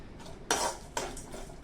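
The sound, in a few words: desiccated coconut being roasted and stirred in a pan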